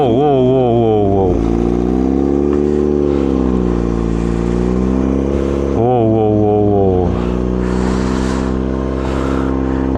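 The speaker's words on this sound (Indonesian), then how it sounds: "Emang suara 4 silinder itu sangat menggoda ya" A small four-cylinder motorcycle engine revs up and down repeatedly, loud and close, with a steady idle between rising and falling pitches.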